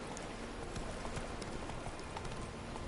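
Roach the horse galloping in The Witcher 3, a quick, steady run of hoofbeats over a dense background wash, fairly faint and continuous for a few seconds.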